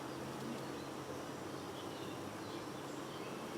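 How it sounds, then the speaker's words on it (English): Honey bees buzzing in an open hive box, a dense, steady drone of many bees heard close up with no talk. "look at them bees. There's loads of bees in the box."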